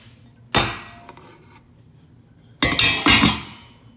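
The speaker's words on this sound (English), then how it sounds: "Lid goes on," A lid goes onto a stockpot on the stove: one sharp metallic clank, a pause, then a quick cluster of clattering knocks as it settles, loud and close.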